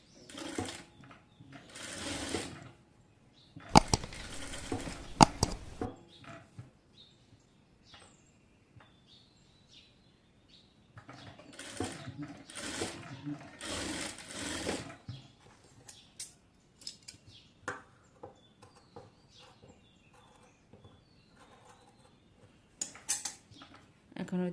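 Sewing machine stitching a designer sleeve, fabric strip lined up along the edge, running in several bursts of whirring with clattery handling sounds and quiet gaps between them.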